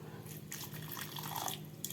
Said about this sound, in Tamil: ஒரு 100 மில்லி தண்ணி ஊற்றலாம்